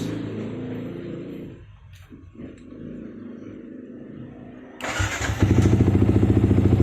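A motorcycle fitted with a DIY LiFePO4 battery catches after a brief crank, then settles into a loud, steady, close-up idle with a rapid pulsing beat.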